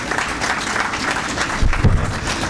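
An audience at a talk gives a round of applause: dense, even clapping that fills the room for a few seconds, with a slightly stronger burst near the end.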